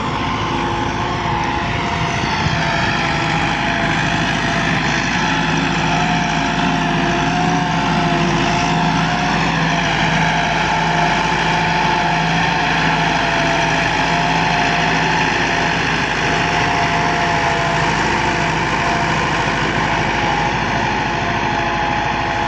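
A 2018 Massey Ferguson 385 tractor drones loudly and steadily while pulling an 11-tine cultivator through a field, a continuous heavy diesel roar under strain at close range with no speech.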